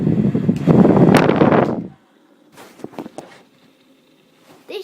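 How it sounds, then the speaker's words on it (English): A very strong hair dryer blasts loudly and close for about two seconds, then cuts off, leaving faint rustling and handling noises. "It's just a really strong hairdryer."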